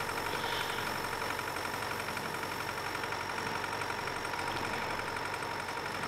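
A tractor running a New Holland 378 baler in Farming Simulator 19 hums steadily with a constant engine drone and mechanical whine, even and unbroken throughout.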